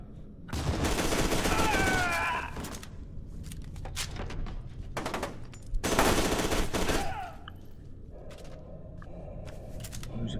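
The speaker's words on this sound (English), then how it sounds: "So the effects of these guns going off while in slow motion is pretty cool." Machine gun fire in the video game FEAR 2 Project Origin, slowed in slow motion: long, loud sustained bursts of gunfire with shorter volleys between them, dense and close.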